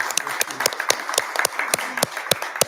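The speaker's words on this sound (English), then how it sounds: "And yes, let's clap for that." A small audience claps at a USD 253 school board meeting, a modest scattering of distinct, fairly close handclaps in an uneven rhythm, with a low murmur of voices underneath.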